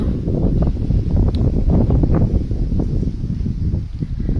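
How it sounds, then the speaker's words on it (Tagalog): Steady, loud wind roars across the microphone in the countryside of the Philippines, a constant buffeting rush with gusts and no voices. "Tingnan mahangin, oh. Sakit hangin."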